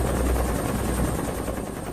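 A helicopter flying over the Waco, Texas compound makes a constant, heavy rotor and engine drone that stays even and loud throughout.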